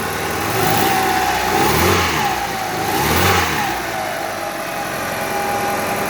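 A car engine idles and is revved twice, rising and falling in pitch, then settles back to a steady idle; fairly close and loud.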